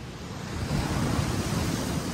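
Large ocean waves surge and break against a rocky Madeira shoreline beside a narrow climbing passage, a continuous loud, close roar of surf swelling slightly midway with no voices.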